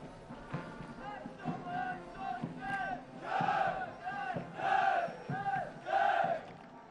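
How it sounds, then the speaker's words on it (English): Young cadets at a passing out parade of the National Defence Academy raise a series of rhythmic, loud group cheers, about five or six rising shouts in quick succession from a massed crowd. "They will cheer the cadets of the passing out course."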